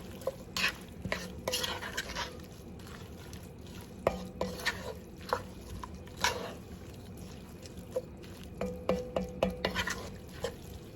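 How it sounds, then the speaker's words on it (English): A spoon stirring tomato soup seasoned with salt and pepper in a cooking pot, giving soft scraping swirls and irregular light clinks against the metal, with a quiet sizzling background. "And let's go ahead and give this a mix."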